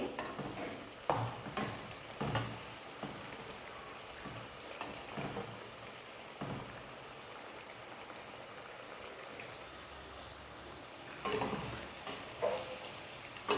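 Bitter gourd frying in a pan gives a steady, close sizzle, broken by a few sharp clatters of stirring. No one speaks.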